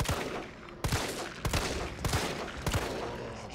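Gunfire in the video game Resident Evil 3 on hard difficulty: a string of loud, closely spaced shot bursts, roughly five or six heavy blasts about half a second apart, with no talk.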